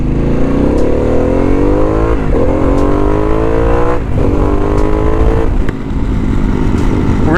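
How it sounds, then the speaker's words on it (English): A Harley-Davidson Pan America fitted with a Vance and Hines 450 high-output exhaust revs loudly and close, climbing through several rising pulls with short dips between them and a deep, throaty roar. "we're going to be testing out my new Vance and Hines 450 high output exhaust"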